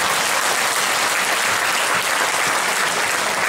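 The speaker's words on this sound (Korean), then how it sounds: "박수 한번 쳐요" Loud, dense audience applause in a lecture hall, a continuous close roar of many clapping hands filling the whole stretch with no speech over it.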